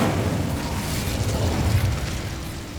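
A fire spell goes off in the Hogwarts Legacy video game as a rumbling, burst-like whoosh that holds fairly steady for a few seconds, with no talking.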